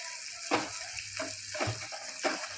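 Fresh coconut pieces sautéed in a pan for modak filling, a faint, close sizzle with about four soft scraping stirs spaced roughly half a second apart.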